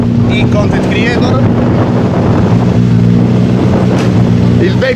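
Wind buffets a microphone at a motorsport slalom event in Tiriolo, a steady loud roaring rush with a low engine-like hum running underneath throughout.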